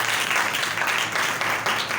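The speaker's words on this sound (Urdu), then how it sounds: "زوردار تالیاں خداوند کے لیے" A church congregation applauds loudly together, a dense steady wash of clapping with no voices on top.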